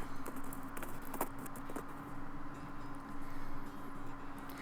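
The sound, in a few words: rain falling in West of Loathing video game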